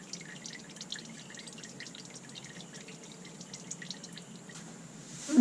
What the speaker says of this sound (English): Let that drain a while